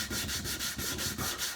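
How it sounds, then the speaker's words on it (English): Steady back-and-forth sanding on a wooden shelf, a loud, close, rhythmic rasping in regular strokes about every fifth of a second, with nothing else heard. "I can carry on sanding this a little bit without trying to breathe in"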